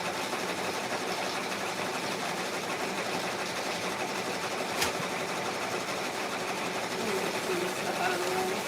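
An embroidery machine stitches designs onto small sweatshirts, a steady fast mechanical whirring hum that runs continuously at close range, with a brief tick partway through.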